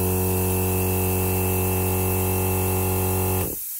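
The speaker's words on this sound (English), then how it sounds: "Motor's just quite happy cutting in and out." An Iwata PowerJet Plus air compressor motor runs with a steady, loud electric hum and buzz, then cuts out abruptly near the end, leaving quiet.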